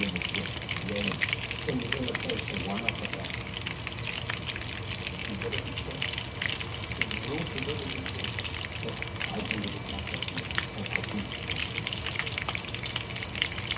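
Marinated chicken 65 pieces fry in hot oil with a dense, continuous crackling sizzle close up, while a person talks over it throughout.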